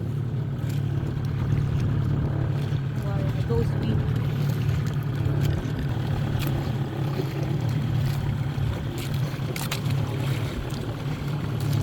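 A boat cruises slowly at a few knots off a beach in the Philippines, its engine a steady low drone with water and wind noise on top, while people talk faintly at times.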